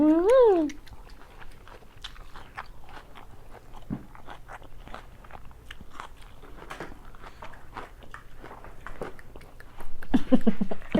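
Someone chews vegetables during a healthy dinner, making crisp, irregular crunches and bites up close throughout, with a short vocal sound at the start and louder voices returning near the end.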